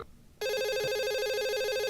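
After a brief rustle, a telephone starts ringing loudly and close by, its electronic tone pulsing steadily with no voices over it.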